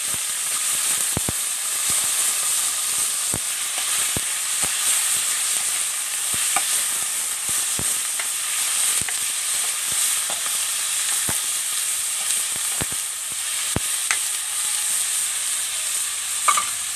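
Leftover rice sautéing in a pan, a continuous bright sizzle and hiss with repeated scraping clicks of a spatula stirring at close range, steady throughout with no talk.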